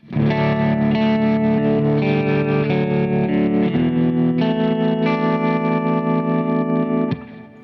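Lap steel guitar in open D tuning plays a sequence of minor chords, sustained and loud with distortion, chorus and echo effects, changing chords every second or so before the final chord cuts off and rings down.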